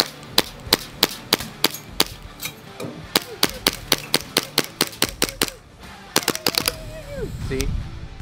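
A Hi Capa green gas airsoft pistol fires a rapid string of sharp, close cracks in steady succession, then a pause followed by a quick burst of shots, with some faint handling noise between.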